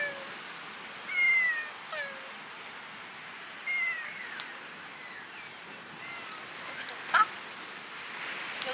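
A cat meows by the sea during car camping, with a few short, faint meows spaced apart over a quiet, soft outdoor background.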